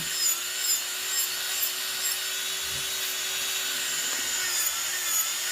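A nail file rasps in steady back-and-forth strokes across clear builder gel on a fingernail, close and even, with a faint constant hum underneath and no talking.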